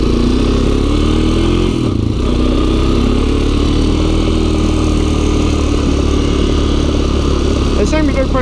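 Honda FourTrax 300 ATV engine churning through mud before a storm, a loud, close, steady low rumble with rising and falling revs and some clatter throughout.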